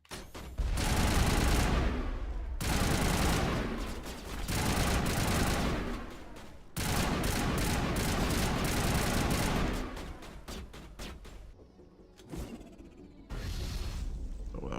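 Sustained bursts of dense automatic gunfire rattle in the Mass Effect video game, loud and continuous with brief gaps between volleys and no voices over them.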